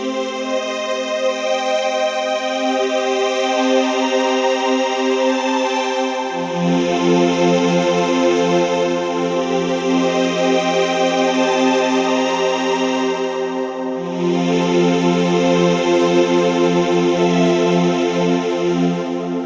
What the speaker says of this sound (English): Really nice stereo image on the reverb.